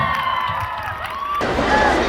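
Crowd at an outdoor New Year concert in Artashat cheering and whooping to welcome a singer on stage, a loud, dense mass of voices that stays steady and swells slightly toward the end.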